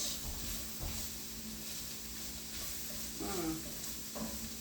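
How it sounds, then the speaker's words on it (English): Garlic sizzles in a hot pan while being stirred, a steady close hiss with scattered scraping clinks of the utensil, continuing without speech. "Give them a stir until our garlic is just fragrant."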